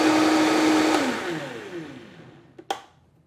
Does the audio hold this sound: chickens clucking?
no